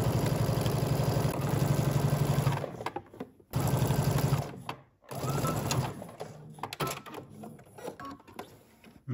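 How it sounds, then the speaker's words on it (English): A domestic sewing machine stitches a cuff onto a sweatshirt sleeve, its fast needle rattle running in steady close bursts that stop and restart several times. "went ahead and stitched the cuff to the sleeve"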